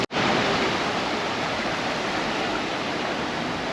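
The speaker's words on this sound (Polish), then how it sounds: "U góry miasto pełne życia, a tu na dole szumyk strumyka." The Cheonggyecheon stream runs through a sunken urban channel below the city of Seoul, heard as a close, steady, even rush of flowing water that starts abruptly and continues without a break, with no voices.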